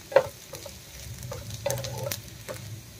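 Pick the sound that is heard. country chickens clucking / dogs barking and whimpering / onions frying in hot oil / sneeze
onions frying in hot oil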